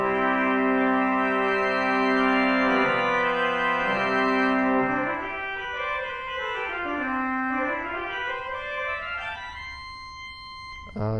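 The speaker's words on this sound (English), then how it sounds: "This is the swell octave." Church pipe organ at Llangyfelach Church playing with the swell octave coupler, sustained stacked chords with a moving inner line that dips and rises, steady and fairly loud throughout with no talking.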